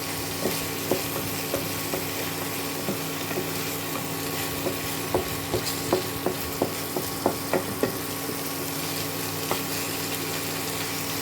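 A spoon scrapes and stirs a thick shrimp paste cooked with onion juice in a wok, with a run of soft repeated knocks in the middle and a faint sizzle underneath.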